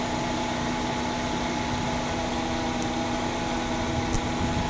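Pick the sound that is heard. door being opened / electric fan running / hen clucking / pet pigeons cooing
electric fan running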